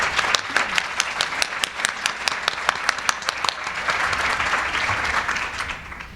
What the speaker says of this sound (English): please join me in a round of applause for this entire volunteer staff support